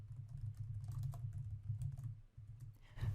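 Typing on a computer keyboard while entering a name into a spreadsheet formula, a quiet patter of close key clicks over a low steady hum, with a brief pause near the end before a final burst of taps.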